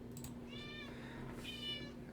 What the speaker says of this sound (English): you probably will hear my cat at some point